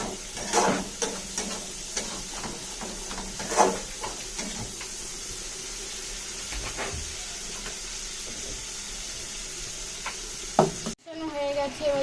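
Cauliflower and potato frying in a pan for a paneer dish, with a steady sizzling hiss, repeated stirring scrapes and knocks, and a sharp clatter near the end.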